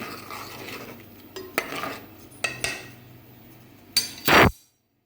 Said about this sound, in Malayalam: പൊരിച്ചെടുക്കുക ഞാൻ കല്ലുപ്പ് ഇട്ടത് കൊണ്ടാണ് ഇളക്കി യോജിപ്പിക്കുന്നത്